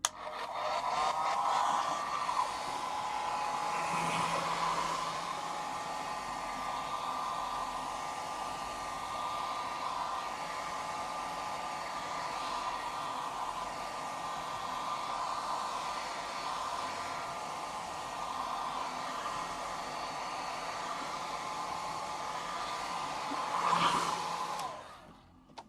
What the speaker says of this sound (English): I'm going to give it a quick blast with the hairdryer anyway